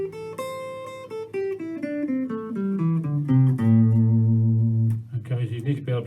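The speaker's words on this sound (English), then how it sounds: "the first thing is to learn the pentatonic scale, otherwise known as the blues scale" Guitar playing a pentatonic blues scale in even, steady single notes descending then sustaining, close and clear, followed by a few quick notes.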